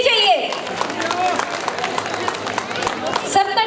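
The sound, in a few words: audience applause at a sangeet performance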